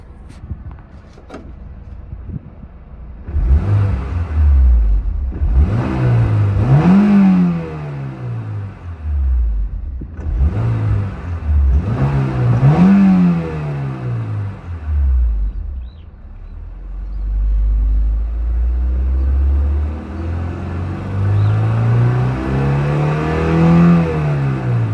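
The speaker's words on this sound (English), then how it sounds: "Now, let's give her a few revs and check how the engine sounds." A 2000 Honda S2000 AP1 with its 2-liter engine revs repeatedly while parked, several loud rising-and-falling blips climbing and dropping in pitch, then a longer sustained rev near the end, heard close up with no talking.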